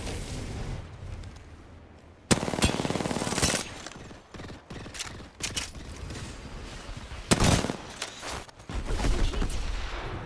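Gunfire in the video game Apex Legends comes in loud, rapid automatic bursts with sharp cracks, broken by short pauses and renewed volleys close up.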